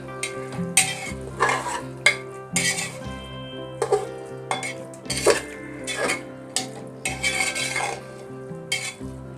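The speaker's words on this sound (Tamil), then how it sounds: "அதையும் இந்த மசாலாவோட நல்லா மிக்ஸ் பண்ணி விட்டுடலாம்." Prawns are stirred into masala in a frying pan for prawn biryani, with repeated scraping spoon strokes against the metal pan and a soft sizzle underneath, close and steady, no talking.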